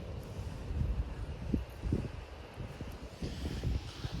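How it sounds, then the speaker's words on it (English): Strong night wind gusting outdoors at a cattle farm, a steady rough rumble with repeated low buffeting surges against the microphone, loud and close, with no talking. "that wind is crazy."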